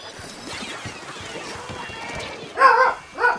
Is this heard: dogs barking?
yes